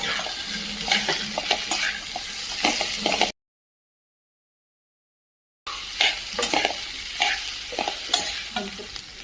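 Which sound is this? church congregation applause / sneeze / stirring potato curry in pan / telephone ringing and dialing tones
stirring potato curry in pan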